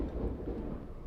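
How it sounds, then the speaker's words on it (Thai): Thunder from a lightning strike outside during heavy rain, a low rumbling roar with rain noise, heard briefly and fairly faint in the background. "โอ้โหฟ้าผ่าดังมากเลยข้างนอก"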